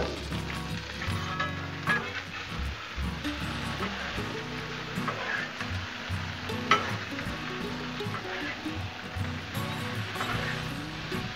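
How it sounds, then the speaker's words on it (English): Potatoes frying and being stirred on a Blackstone griddle, a steady close sizzle with scraping stir strokes running throughout, no talk over it. "keep the taters stirred up that way and the bottom ones don't get done a lot faster than the top ones"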